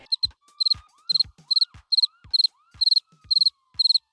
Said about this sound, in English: Maybe you can throw in the crickets sound effect.